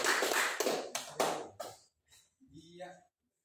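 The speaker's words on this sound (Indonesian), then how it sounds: "Iya, kasih tepuk tangan." In a seventh-grade classroom in Indonesia, a few sharp clusters of student hand claps ring out briefly, then fade into quiet with a voice speaking at the end.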